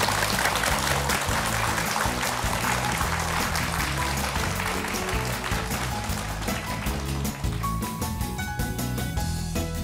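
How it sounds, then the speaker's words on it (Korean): A studio audience applauds on a television talk program, a dense, continuous clatter of many hands that stays loud and close for the whole stretch before thinning slightly near the end. "다시 한번 큰 박수 부탁드리겠습니다"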